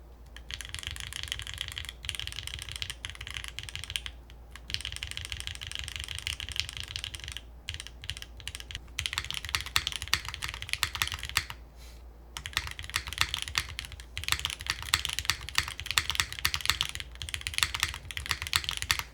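Rapid typing on a mechanical keyboard with lubed Gateron yellow switches on an aluminum plate clatters continuously, close and fairly quiet, with brief pauses between bursts of keystrokes.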